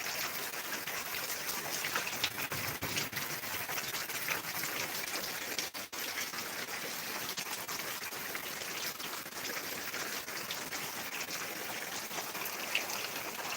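Heavy rain falls steadily with strong wind, a dense, unbroken wash of drops beating on surfaces near and far, with no voices over it.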